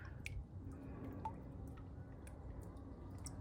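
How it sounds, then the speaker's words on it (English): Rainwater is poured into a plastic tub in a garden, giving a steady low gurgling fill with small scattered drips and splashes, no speech. "So I fill it up with water, rainwater."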